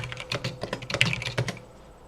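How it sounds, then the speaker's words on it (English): Rapid keystrokes clatter on a computer keyboard while typing values into a graph, an uneven run of close, crisp clicks that thins out toward the end. "Actually, let's just type it out."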